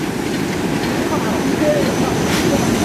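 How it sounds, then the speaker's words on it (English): A downhill freight train worked by three SY steam locomotives at Chengde Steel, a loud, steady rumble of rolling wagons with faint wheel squeal. "Here's a downcoming train."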